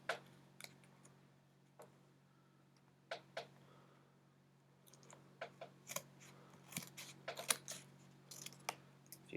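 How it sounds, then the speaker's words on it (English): Scissors cutting along the edge of a poster board, crisp snips near and quiet at first, then quickening into a denser run of cuts over a low steady hum. "very carefully, very neatly, I'm going to cut along the edge of my poster board."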